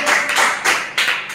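A congregation at a Telugu Christian sermon claps hands in loud, close bursts, about four rhythmic waves of clapping with no talk.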